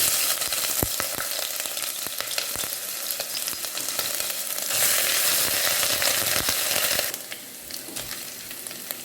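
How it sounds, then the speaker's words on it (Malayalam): Crushed ginger and garlic hit hot coconut oil in a pan, sizzling steadily and loudly up close, with brief stirring scrapes and crackles, the frying swelling midway then easing slightly toward the end. "ചൂടായതിന് ശേഷം ചതച്ച് വെച്ചേക്കുന്ന ഇഞ്ചി വെളുത്തുള്ളി ചേർത്ത്"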